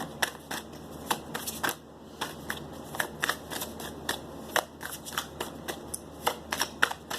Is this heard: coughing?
no